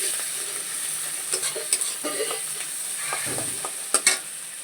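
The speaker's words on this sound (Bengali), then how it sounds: "দিয়ে এটাকে আমি সুন্দর করে আরেকটু কষিয়ে নেবো" Egg tarka masala sautéed in a pan, a continuous bright sizzle with scraping stirs and occasional louder clinks of the spatula, close up.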